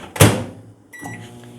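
A microwave oven warming chocolate ganache in a home kitchen: a loud thump like the door shutting, then the steady low hum of the running oven with a faint high tone, close by.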